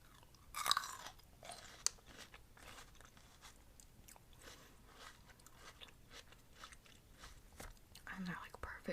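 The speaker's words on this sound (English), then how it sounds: "they have this like really nice crunch when you bite into it" Someone bites into and chews crunchy grapes up close, with soft wet crunches and repeated mastication clicks throughout, faint and intimate with quiet soft-spoken talk.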